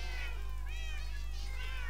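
Several Minecraft cats meowing in overlapping, wavering cries across two seconds, close and clear over a steady low hum from the game.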